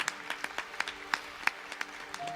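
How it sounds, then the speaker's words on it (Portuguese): A church congregation claps in a loose, uneven rhythm, individual hand claps distinct and moderately close, fading toward the end as a faint tone enters. "Pode aplaudir, pode aplaudir."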